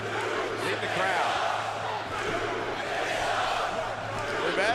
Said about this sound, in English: We've added a little bit to the chant of New Day here in San Jose.